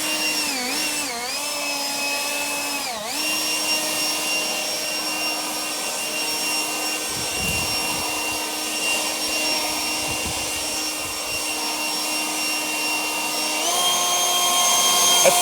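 An Echo 56-volt battery-powered leaf blower with a large battery runs at a loud, steady tonal whine. It dips briefly a couple of times early on, then surges louder near the end.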